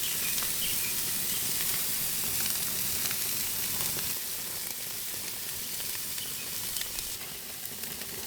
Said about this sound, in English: Oh yeah, look at that sizzle.